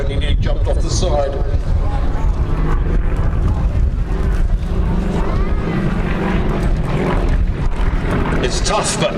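Yak-50 aerobatic aircraft engine at the Little Gransden Airshow 2024, a steady loud drone with wind rumble running under someone talking close to the microphone.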